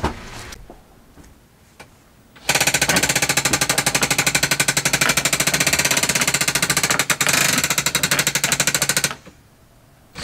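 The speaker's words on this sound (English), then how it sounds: "put your drill on, and pull the trigger" A power drill fitted with a bit drives fasteners while a trailer bed lift is being installed. After a quiet start it bursts into a loud, rapid, rattling hammer that runs steadily for about six seconds, then stops.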